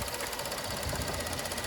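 A 2014 Buick Lacrosse Premium II 3.6 liter V6 engine idling under the open hood, a steady close mechanical whir with a fast ticking rhythm.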